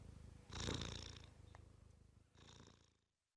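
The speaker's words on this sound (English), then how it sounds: "Oh, lovely cat." A cat purring softly in two close, rhythmic bursts separated by a short pause, quiet and alone without any talk.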